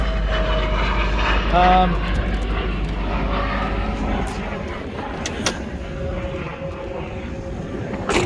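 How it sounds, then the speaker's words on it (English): A rebuilt car engine runs steadily with a low, constant hum close by, joined by brief clatters and a faint pulley noise, and the sound eases somewhat in the second half. "Engine seems to run very well."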